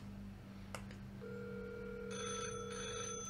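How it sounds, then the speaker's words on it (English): A Fanvil video intercom desk phone rings indoors with a steady electronic ring tone that starts about midway and repeats in short bursts over a constant low background hum. "There we can see this phone's ringing."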